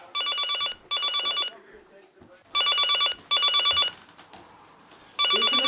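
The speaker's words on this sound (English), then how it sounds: "Was that the phone?" An old-fashioned telephone bell rings late at night in repeated double bursts, loud and close, with short gaps of quiet room noise between the rings.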